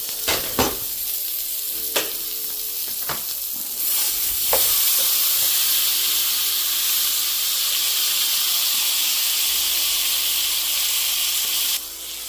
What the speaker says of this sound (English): I got some food cooking right now.